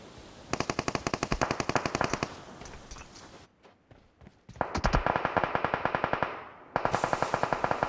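Automatic gunfire rattles in PUBG Mobile on the Miramar desert map, with rapid bursts of shots broken by a short pause, then more sustained firing, close and loud with no talk.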